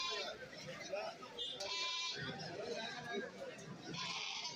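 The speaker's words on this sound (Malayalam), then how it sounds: "ഇഷ്ടംപോലെ ആട് വന്നിട്ടുണ്ട്" Goats bleat repeatedly at a crowded Kerala goat market, several calls rising clearly over a steady din of chatter and crowd talk.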